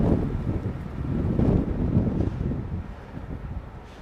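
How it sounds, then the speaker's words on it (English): Strong, fierce wind gusts across a microphone on a New York City street, a loud rushing buffet that swells and eases over a few seconds without talk. "Lots of wind, very fierce."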